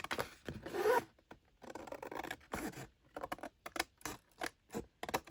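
Scissors cut paper scraps along zigzag lines, giving a run of crisp snipping and rustling strokes in a steady rhythm, close and fairly loud.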